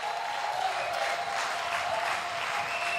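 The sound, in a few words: congregation applauding in church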